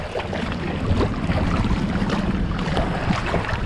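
A poltang, a small motorized outrigger boat, runs on open sea with a steady low engine drone mixed with wind and water noise, nearby and continuous.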